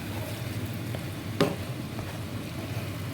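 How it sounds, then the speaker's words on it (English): Hamburger meat stirred in a frying pan gives a steady soft sizzle with light scraping, plus one sharper utensil clatter near the middle. "I've got this hamburger meat here. I'm trying to get it all stirred in."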